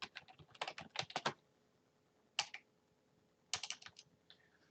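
Keys clatter on a computer keyboard in quick bursts of clicks, pausing then resuming, close and fairly quiet with no voices over them.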